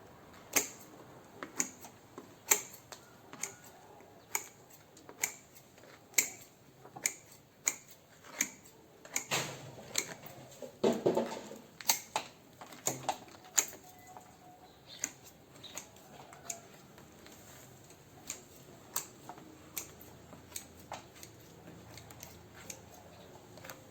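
Scissors snipping plant roots growing out of the bottom of a flower pot, a steady series of sharp, close clicks and cuts at a fairly regular rhythm, with a denser cluster of snips midway and no talking.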